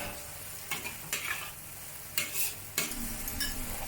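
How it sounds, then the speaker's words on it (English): Stir-frying with XO sauce in a pan, a soft continuous sizzle punctuated by several distinct scraping stirs at uneven intervals, close and fairly quiet, no one talking. "Half of the XO sauce in the recipe, about 1 tablespoon. Stir fry for about 2 minutes."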